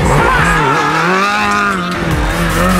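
An engine revs with rising and falling pitch as a motorcycle, a Booster scooter, a 636 or a 125 CBR, accelerates gently to lift into a wheelie, loud and close for the whole stretch.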